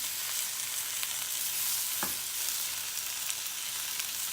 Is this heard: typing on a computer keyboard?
no